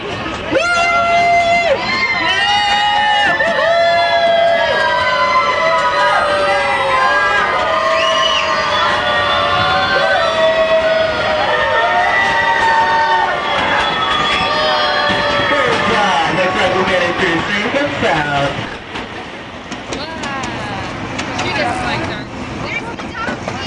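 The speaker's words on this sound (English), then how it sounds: "We do that by yelling really loud all the way through the tunnel" A crowd of children and adults yelling and cheering loudly and continuously while riding a ride through a tunnel at the Santa Ana Zoo, the shouts then dropping off to quieter ride noise near the end.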